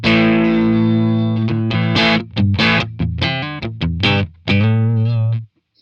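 A bass played through a lightly overdriven amp capture with effects off, edge-of-breakup tone, with a run of notes and short pauses, ending in a sustained note that cuts off.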